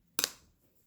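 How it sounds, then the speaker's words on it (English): A single short spritz of sage and rosemary smudge spray, a soft close hiss lasting a fraction of a second in a quiet room. "I'm going to spray it again"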